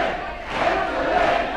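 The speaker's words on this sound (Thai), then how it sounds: "เป็นเวทีเล็กครับแต่ทำให้เสียงเชียร์นี่ดังเลยครับ" A crowd cheers for boxer Ryol Li Lee at a small boxing venue, a loud, continuous roar of voices that swells slightly midway and carries no distinct speech.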